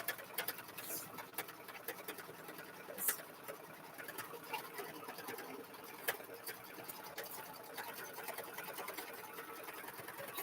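A sewing machine stitches around a piece of fabric in a continuous run of rapid mechanical ticking and whirring. It stays steady with small pauses and clicks along the way.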